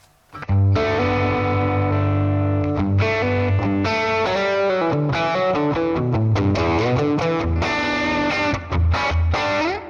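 Electric guitar driven through a warm, crunchy Deluxe Reverb tube amp, playing a busy run of chords and single notes with steady loudness, no voices.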